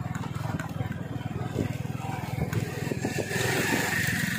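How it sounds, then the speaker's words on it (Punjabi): Motorcycles pass along a road beside kinnow orchards, their engines rising and fading in a rumbling drone over constant nearby road and vehicle noise. "ਆ ਦੇਖੋ ਮੋਟਰਸਾਈਕਲ ਵਾਲੇ ਜਾ ਰਹੇ ਨੇ"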